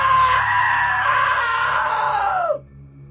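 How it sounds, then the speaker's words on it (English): A long, loud scream in the video game What Remains of Edith Finch, held steady for about two and a half seconds and then cut off sharply, followed by quiet background. "Now that was a great scream."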